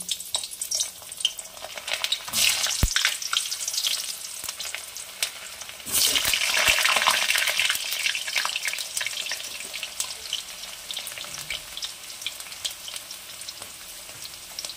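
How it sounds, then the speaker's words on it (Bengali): Cut potatoes go into hot oil with a sharp burst of sizzling that swells, then settles into a steady crackling fry, with a brief clatter early and occasional stirring. "প্রথমে ভেজে নেব কেটে রাখা আলু"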